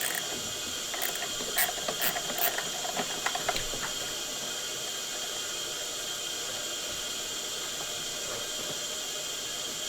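A ratchet fitted with a 10mm deep socket loosens a nut on a 2003-2004 Ford Expedition 4.6L V8, with a few quick clicking bursts early on, then fading under a steady hiss.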